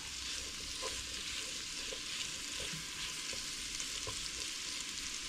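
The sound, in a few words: meat browning in a frying pan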